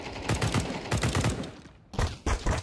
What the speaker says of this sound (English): I knew he was shooting me